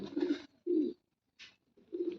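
A pigeon coos in a series of low, throaty calls with short pauses between them, close by and alone against a quiet background.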